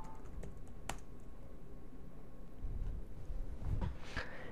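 Keys clatter in a short burst of typing on a computer keyboard while setting up a DOS sound card install, close and steady, with a slightly heavier flurry of strokes near the end.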